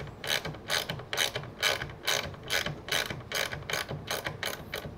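Screws being tightened by hand while assembling a high wooden deck chair, a rapid ratcheting click repeating in steady bursts close by.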